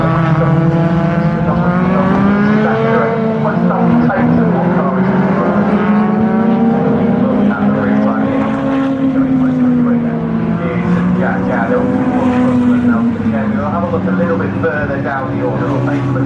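Ford Sierra Cosworth and other touring cars racing on the Snetterton circuit, engines droning and shifting pitch continuously throughout, with a commentator talking over the steady track noise.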